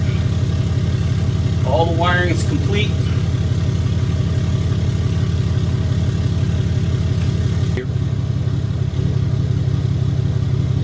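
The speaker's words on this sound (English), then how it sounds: "Truck is started up." A truck engine running at a steady idle, a constant low rumbling hum throughout, with someone speaking briefly over it early on.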